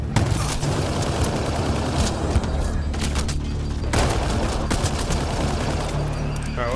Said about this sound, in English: Still shooting here!